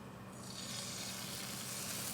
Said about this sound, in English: you can hear a bit of sizzle